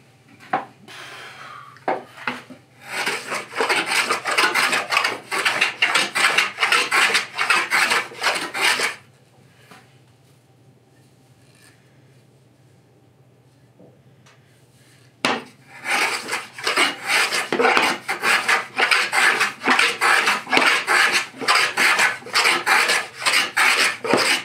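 A hand tool smooths the wood of a pentagonal box in quick rhythmic rasping strokes, close and loud, with a pause of several seconds midway before steady scraping resumes.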